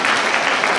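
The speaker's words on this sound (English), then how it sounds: "Applause for her, please." Brief burst of audience applause, a dense, steady wash of many hands clapping with no pauses.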